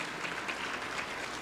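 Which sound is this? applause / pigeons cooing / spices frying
applause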